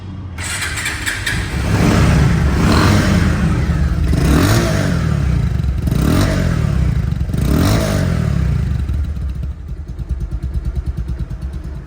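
A second-hand Bajaj Pulsar DD motorcycle with about 3,800 km on it starts up and runs, its engine revving loudly in several rising bursts before settling toward a steadier throb near the end.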